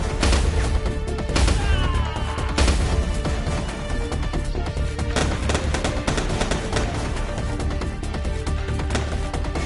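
Rapid, dense gunfire with exploding rounds in the shooter video game Foreclosed, loud bursts of shots and crackling blasts hammering almost continuously from start to finish.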